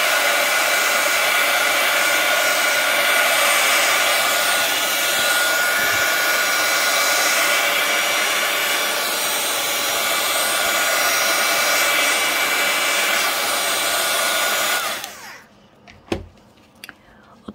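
Heat gun blowing a steady, loud stream of hot air over an antler craft piece for jewelry, a continuous broadband roar lasting about fifteen seconds before cutting off, followed by a few faint clicks and handling sounds.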